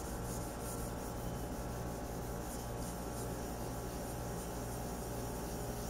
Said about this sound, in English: You know you're rubbing the same kind of stone together